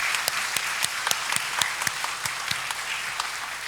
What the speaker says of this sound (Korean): 감사로 함께 박수하도록 하겠습니다